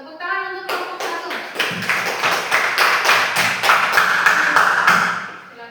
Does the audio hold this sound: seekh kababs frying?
no